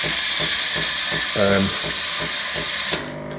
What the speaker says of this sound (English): This indication was to say that it was mucking around with steam and milk, and we can see that's milk going in first.